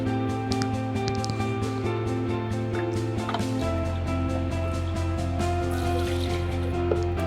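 Water measured out and poured for soap making, a steady liquid fill running throughout beneath a constant low mechanical hum, with no talk.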